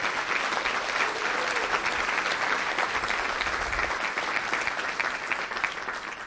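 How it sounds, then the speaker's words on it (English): A crowd at a school district's State of the District event gives sustained applause, dense and even clapping filling the room for the full stretch with only faint voices beneath. "Let's give them a huge round of applause."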